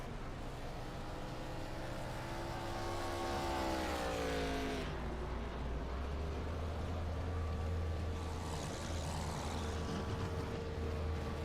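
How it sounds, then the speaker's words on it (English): A race car rolls down pit road at Watkins Glen in the iRacing sim, its engine note winding down in a sweeping pitch glide before settling into a steady low drone, close and continuous. "As now we've got a car down pit road."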